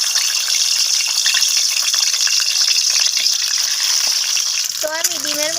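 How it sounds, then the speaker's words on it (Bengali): Eggs dropped one by one into hot oil, giving a loud, steady frying sizzle with bubbling crackle throughout and a brief tonal squeak near the end. "এরপর আমি তেলের মধ্যে ডিমগুলোকে দিয়ে দিচ্ছি একে একে"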